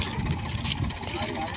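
A Massey tractor engine idles steadily in a muddy farm field, a low rumbling chug running underneath people talking nearby.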